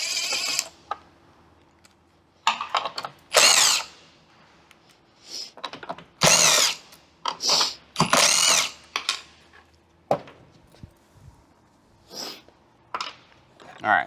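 A power drill fitted with a 3/16 Allen bit backs screws out, giving short, loud, close whirring and ratcheting bursts separated by brief pauses.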